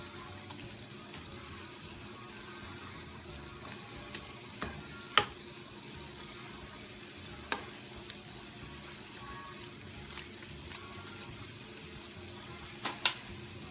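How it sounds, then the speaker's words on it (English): Cornbread frying in a pan for a Sunday dinner: a steady, soft crackling sizzle runs throughout, with a few sharp pops and clicks near the end, and no talking. "So let it fry."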